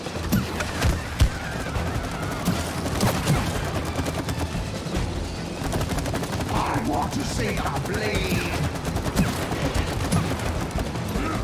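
Rapid gunfire from shooting in the co-op video game It Takes Two crackles in dense, continuous bursts alongside other game sounds, with occasional talk.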